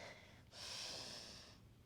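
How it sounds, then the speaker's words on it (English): A single deep inhale through the nose during a yoga down dog pose, a soft, close, airy rush that swells after a brief pause and then tapers off. "Breathing in."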